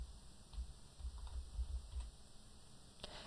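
Quiet typing on a computer keyboard, a short run of soft, irregular key clicks close by over a faint background hum, ending with a single sharper tap.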